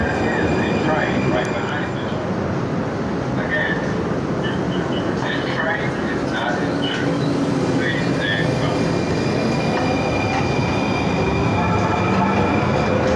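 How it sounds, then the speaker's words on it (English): A Valley Metro light rail train in Phoenix pulls up, rumbling and clattering close by with faint wheel squeals and hissing, while a voice talks over the steady noise. "Is there another train pulling up?"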